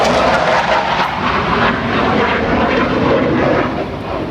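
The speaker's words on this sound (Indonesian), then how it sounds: "ada pesawat jet bolak-balik" Jet aircraft passing back and forth overhead: a loud, steady, broadband engine roar filling the whole stretch, fading slightly toward the end, with no voices.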